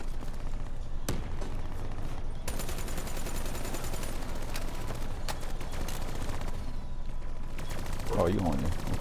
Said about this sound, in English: get on the little machine gun over here, and it's a wrap